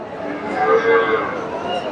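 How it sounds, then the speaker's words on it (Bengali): A Friesian dairy cow at a cattle market in Bogura, Bangladesh, gives a short, low moo over a background murmur of voices. "এই যে ফ্রিজিয়ান জাতের গাভী"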